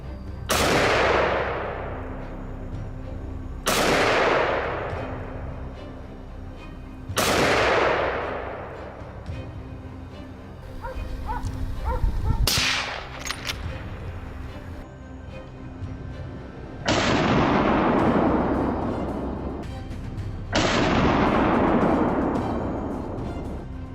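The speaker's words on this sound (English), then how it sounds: "the shots ring out decisively" Gunshots fired while hunting wild boars: six or seven loud, sharp blasts spaced several seconds apart, each followed by a long echoing decay across open terrain, with a brief clatter of handling between shots.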